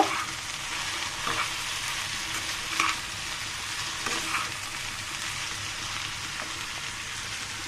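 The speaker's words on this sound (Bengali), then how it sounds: "এই পর্যায়ে আমি নাড়াচাড়া করে দিব" Bitter gourd sizzles steadily while frying in a pan, a constant hiss with a few soft scrapes of stirring rising briefly above it.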